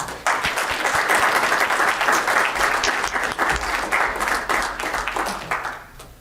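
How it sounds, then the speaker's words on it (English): Steady, dense audience applause at a Weber County meeting, starting abruptly and holding at an even, strong level for about six seconds before dropping off at the end. "Can you give one last round of applause for Bill and Sean?"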